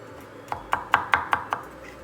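Knife blade chopping squash finely on a cutting board for Chinese dumpling filling, six quick, evenly spaced chops close by, each a sharp crisp knock against the board, with no voices.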